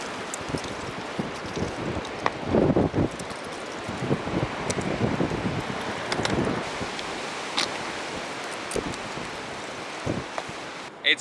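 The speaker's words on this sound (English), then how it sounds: "the wind is absolutely ridiculous" Strong, gusty wind roars outdoors during a skateboarding session, buffeting the microphone in a steady broadband rush with louder surges, and no voices can be heard.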